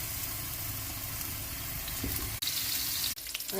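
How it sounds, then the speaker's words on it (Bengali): Hilsa fish pieces rubbed with turmeric frying in oil in a wok, a steady dense sizzle with a low rumbling undertone, continuous throughout with two brief dropouts near the end. "এখন মাছগুলো ভাজতে দিয়ে দিলাম।"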